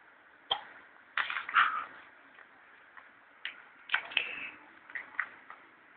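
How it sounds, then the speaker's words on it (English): A baby hiccups several times at irregular intervals, each a short soft click-like gulp heard close, with faint quiet room sound between them and no talking. "Somebody's got the hiccups."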